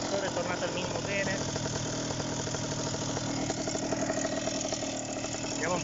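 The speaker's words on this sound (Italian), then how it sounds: "Motore è tornato al minimo bene." A Delta Piuma trike's MINARI F1 Pro 200 engine with a 125 wooden propeller idles steadily with a rough, pulsing rhythm, close and continuous, with a voice talking faintly underneath.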